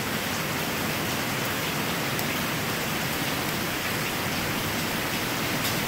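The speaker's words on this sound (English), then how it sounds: "So far, only a lot of thunder and rain." Steady, dense rainfall during a thunderstorm hisses evenly and loudly throughout, a continuous wash of drops on surfaces with no wind gusts or voices.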